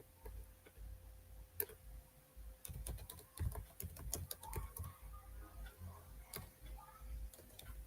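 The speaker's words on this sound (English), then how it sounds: "So if I come here and I type African STEM girl," Fingers tap steadily on a computer keyboard, entering text into a web signup form, with rapid irregular clicks and short bursts of keystrokes close by against a faint background hum.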